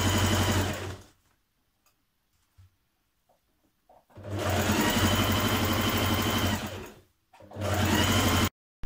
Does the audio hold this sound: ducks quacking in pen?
no